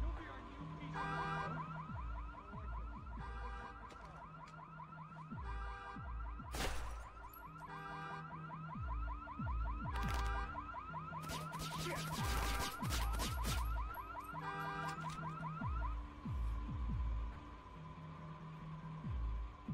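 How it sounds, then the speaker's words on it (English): A car alarm blares in the stealth video game Splinter Cell: Conviction, cycling through repeating electronic wails and whoops for nearly twenty seconds, loud and close, with a few sharp clanks mixed in. "Start car alarm?"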